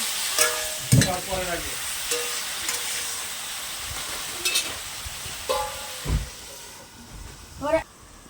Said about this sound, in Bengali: একটু করে জল দেবো যাতে লঙ্কাটা পুড়ে না যায়